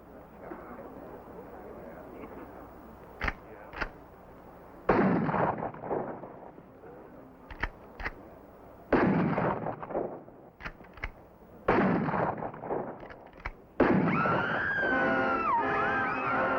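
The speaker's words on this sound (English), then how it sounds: "will fire at that moving wheel and place a row of bullets around that young lady" Gunshots are fired at a moving wheel in a frontier circus act, sounding as a series of sharp reports, some single and some in quick pairs, spread between bursts of talk, with a louder blast and a crowd cry near the end.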